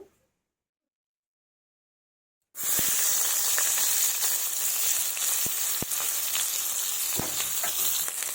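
After a couple of seconds of silence, chopped onions start frying in oil with a steady, close sizzle and hiss, broken by a few sharp clicks and taps, and no talking.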